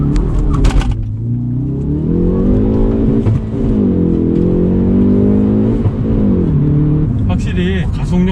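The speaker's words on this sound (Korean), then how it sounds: "일단 스타트에서 올라가는 가속력을 한번 볼게요." A Hyundai Veloster N accelerates hard from a standing start, its engine note climbing and dropping through gear changes, loud and close from inside the car, with a person talking over it.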